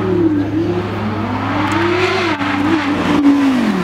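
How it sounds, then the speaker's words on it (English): An Audi R8 supercar's engine revs hard and close on a demonstration run at the Beaulieu Supercar Weekend, holding a loud steady howl broken by brief cracks as it shifts gear. "I just love the crackle as it changes gear."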